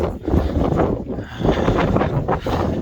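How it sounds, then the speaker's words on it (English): Strong wind gusting across the summit of the Litlihrútur volcano, a steady low buffeting roar that swells and dips in waves throughout, loud and close as it batters the microphone. "it's quite windy here."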